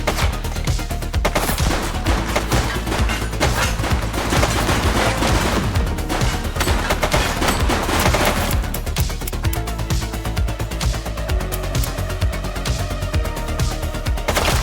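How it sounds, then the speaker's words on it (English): Sustained gunfire in the police game The Precinct: loud, rapid, continuous shots and bursts crackling close by for the whole stretch, with no pauses and no talk. "Shots fired!"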